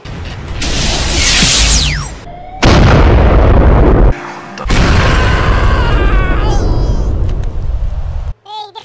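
Loud special-effect explosions roar one after another with whooshing, crackling blasts and brief silent gaps between them.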